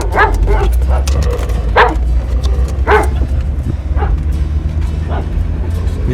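A dog gives a run of close, loud barks and yips spaced about a second apart, over a low engine hum inside a Jeep WJ.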